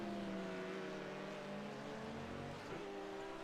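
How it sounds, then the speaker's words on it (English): Audi race car engine in an endurance racing video game at Spa Francorchamps, a steady droning whine that holds on, then audibly dips as the revs drop near the end, with other cars humming underneath. "you can hear the revs really drop in the Audi there"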